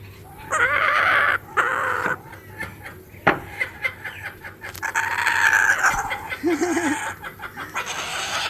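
Chickens cluck and squawk close by as they peck at leftover dog food outdoors in the morning, with bursty irregular calls, a few louder squawks and a brief warbling note.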